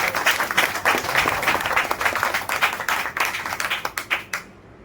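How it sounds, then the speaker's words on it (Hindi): Seminar audience at a network marketing business event in New Delhi breaking into loud, dense applause that tapers into a few final claps before silence. "एक बार जोरदार ताली।"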